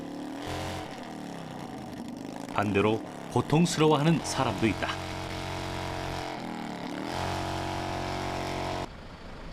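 A motor revs and drones in the background while a person speaks over the middle stretch, the engine continuing steadily after the talk.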